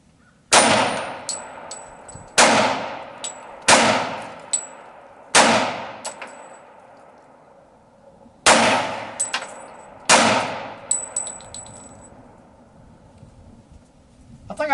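Pistol rounds strike a steel dueling tree target, each hit a sharp ringing clang with a long metallic decay. Six separate impacts come in two uneven clusters, loud and close.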